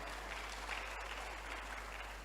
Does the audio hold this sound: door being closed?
no